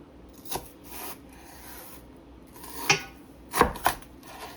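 Knife cutting through limp celery stalks on a board, a few soft scattered strokes followed by a pair of louder crisp chops near the end, close by with no talk.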